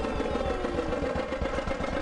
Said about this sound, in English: Take two chickens on a ride on a tractor.